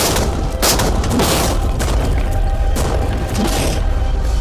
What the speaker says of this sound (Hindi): टैंक्स की रैपिड फायर से मजा आ रहा है।